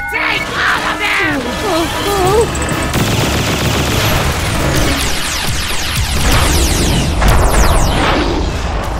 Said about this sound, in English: Plasma machine gun!